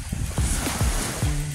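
Sea waves wash onto Ilig-Iligan Beach in Boracay in a steady, loud rush of surf with wind noise on the microphone, and no voices.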